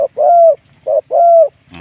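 A dove with a medium-to-large voice coos close and loud, a short note followed by a longer drawn-out one, repeated twice, with the start of another call at the end.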